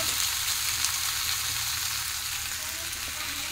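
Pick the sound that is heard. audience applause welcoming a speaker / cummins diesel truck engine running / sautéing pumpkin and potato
sautéing pumpkin and potato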